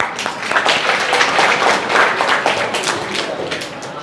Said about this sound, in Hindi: आधी ताली बजा दो